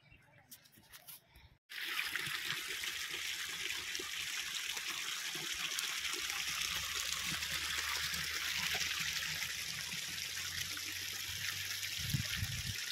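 Water flows and trickles from an old village water source beside a riverside Mahadev temple ghat, a continuous close burbling stream that starts abruptly after a short quieter moment and carries on steadily.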